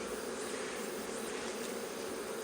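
Native Korean honeybees droning steadily at the front of a hive, a dense continuous buzz of many insects, close and even throughout with no pauses.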